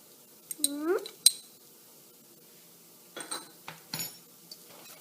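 A utensil stirs chilies into yellow lentil daal with methi and palak in a pot, making a few light metallic clinks and scrapes against the pot's side, close and fairly quiet, with short pauses between the sounds.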